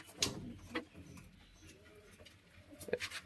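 A wild pigeon in a loft gives soft, low coos amid light fluttering and shuffling sounds, fairly close and quiet, with no other sound standing out.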